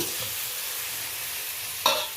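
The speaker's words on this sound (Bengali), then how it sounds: "এই দেখুন পেঁয়াজ, টমেটো, কাঁচা লঙ্কা বেশ ভাজা ভাজা হয়ে গেছে" Onion, tomato and green chili fry together in a pan with a steady, close sizzle, and a brief louder scrape or clatter of stirring comes near the end.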